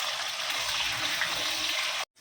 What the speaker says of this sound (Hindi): पानी में आलू रहता ना, तो इसलिए ऐसा चरचर चरचर आवाज़ आ रही है